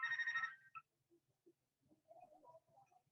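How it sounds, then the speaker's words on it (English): A telephone rings briefly at the start of an indoor recording, a bright electronic trill that cuts off, followed by faint scattered sounds and distant murmuring voices. "don't worry about the phone call"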